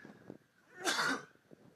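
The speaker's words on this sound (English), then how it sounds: "I'm going to sneeze here, hold on." A single sneeze from a man during a recorded networking lecture: one sharp, close, noisy burst lasting about half a second, with faint rustling before and after and no talk.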